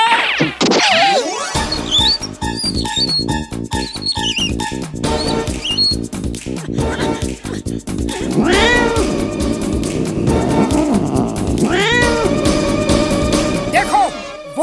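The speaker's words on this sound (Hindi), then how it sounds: "देखो वो आ रहा है बिल्ला" A cartoon cat meows and caterwauls in long, loud, wavering cries over busy music and crashing effects, with frantic animated action throughout.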